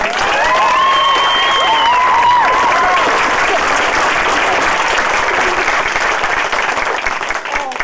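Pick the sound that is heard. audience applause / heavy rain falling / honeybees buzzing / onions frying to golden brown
audience applause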